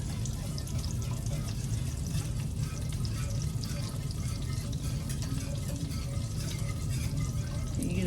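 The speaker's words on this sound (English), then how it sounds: "Now you're just going to whisk it together for a few minutes." Peanut pork sauce whisked in a pot, a steady close wet swishing and gentle bubbling that carries evenly without a break.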